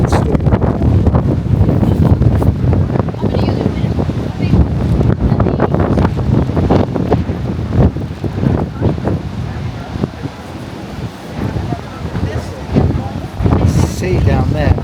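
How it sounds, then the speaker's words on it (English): Strong wind on a Gran Canaria beach during a sandstorm batters the microphone with loud, gusty rumbling throughout, and a person talks over it. "See how strong the wind is."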